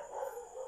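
A single drawn-out dog bark or yelping howl, fairly close and moderately loud, standing alone without any talking.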